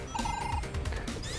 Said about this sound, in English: that's my phone on the notifications on this one